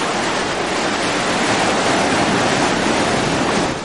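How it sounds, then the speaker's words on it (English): Waves roll in and water rushes loudly and steadily along the shore at Laguna Beach, a dense, close roar of surf with no break and no voices. "There's a lot of rushing water and a lot of waves just rolling in."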